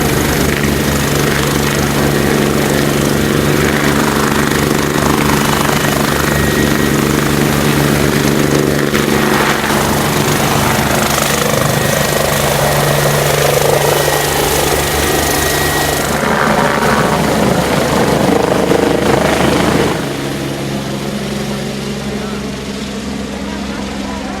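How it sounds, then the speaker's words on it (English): A helicopter taking off beside the Hawkesbury River: its loud, droning engine and rotor roar builds steadily for a long stretch, then fades as the aircraft lifts away; talk is faint beneath. "But chopper's going to take off, so we'll stay and film it anyway"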